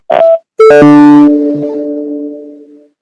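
A short electronic beep, a brief pause, then a longer tonal beep that rings out and fades, clear and close.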